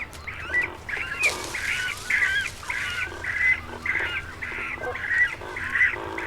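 Cormorants calling from a small tree-nesting colony at Lake Sempach, a steady run of about ten harsh, croaking honks in an even rhythm, fairly near and moderately loud over a low background rumble.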